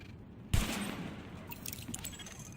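A single sidearm shot at highlighted targets in the video game The Division, sharp and loud, with a dense burst of noise that rings on under faint, scattered clatter.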